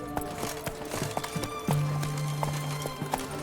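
Roach the horse in The Witcher 3, hooves clopping at an uneven walk followed by a sustained whinny in the middle, close and clear over faint game ambience.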